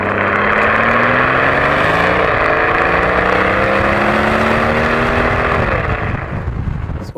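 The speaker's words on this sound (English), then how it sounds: "come up with lots of excuses to hear some nice V12 exhaust notes" A large V12 engine in a Mercedes S-Class drones loudly and steadily through the exhaust, its pitch gliding upward and dipping as it revs, then fading slightly at the end.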